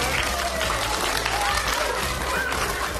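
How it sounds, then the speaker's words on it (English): Primary school pupils give loud, dense, continuous applause in a school hall, steady clapping with crowd noise throughout. "Give him a very big round of applause."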